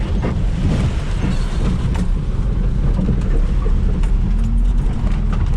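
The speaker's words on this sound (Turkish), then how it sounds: "Şu an inanılmayacak derecede bir yağmur yağıyor." A heavy downpour mixed with hail over an olive field, a dense, continuous roar with low rumbling and buffeting wind noise on the microphone, loud and unbroken throughout.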